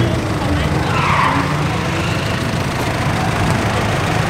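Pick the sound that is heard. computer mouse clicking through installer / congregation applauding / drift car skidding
drift car skidding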